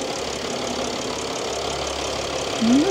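A Mercedes E-Class engine idles under an open hood, a steady low rumble with faint ticking, and a brief tonal whine rising near the end.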